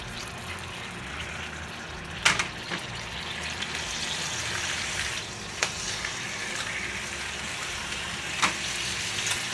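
Steak reheating in a hot pan gives a continuous close sizzle, broken by a few sharp clicks and scrapes of utensils against the pan.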